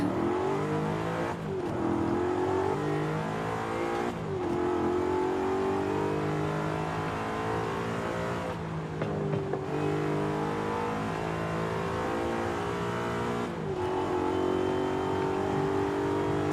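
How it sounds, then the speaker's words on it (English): A supercharged car in Forza Horizon 5 revs steadily through the gears, its engine drone carrying a faint high supercharger whine, with brief dips at each shift, loud and continuous without talk. "I hear a supercharger."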